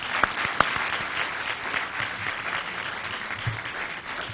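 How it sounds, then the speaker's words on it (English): Audience applause at a Morehouse College event, sustained dense clapping from a large crowd with a couple of sharp close claps near the start, steady throughout. "Let's give those hard workers a round of applause."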